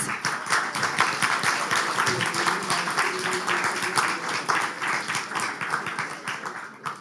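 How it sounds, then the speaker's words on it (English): Audience applause fills an awards ceremony hall at a climate hackathon, with steady dense clapping from a sizeable crowd that carries on for several seconds at an even level. "let's have a round of applause"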